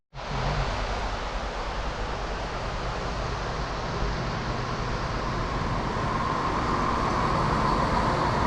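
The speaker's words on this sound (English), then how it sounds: "That train going to Leicester." A train rumbles steadily through an East Midlands railway station, a loud, close, continuous roar of wheels and rail noise that keeps building, with no voices.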